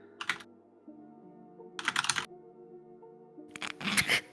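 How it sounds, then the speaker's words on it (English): Fast, hard typing on a computer keyboard comes in three rapid bursts of clattering keystrokes separated by short pauses, close and distinct with no voices. "You can just hear this man's fingers slamming the keyboard"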